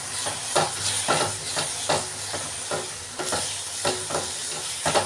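Tomatoes and onions frying in coconut oil for an oyster mushroom gravy, stirred in a pan with rhythmic scraping strokes over a steady, close sizzle.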